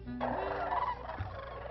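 A dense flock of sandhill cranes and snow geese calls together at a wintering refuge in New Mexico, a loud continuous chorus of overlapping honks and rattling cries with a brief low call near the end.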